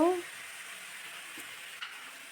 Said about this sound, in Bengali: সাদা তেলে মাংসটা দিয়ে ভালো করে নেড়ে চেড়ে